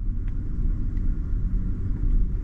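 A BMW reversing on its own under its reversing assistant, a steady low rumble of engine and tyres close by, continuous and fairly loud with no speech over it.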